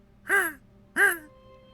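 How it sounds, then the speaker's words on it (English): Two distant crow caws, harsh and drawn out, spaced about half a second apart with quiet between them. "crows in various directions."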